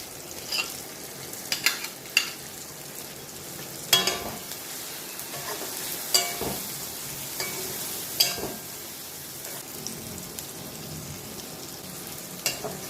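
Home cooking in a pan as four pre-fried prawns go into a mustard paste with a little turmeric, giving soft stirring scrapes and a light sizzle in a steady, fairly quiet rhythm with occasional louder spatula knocks.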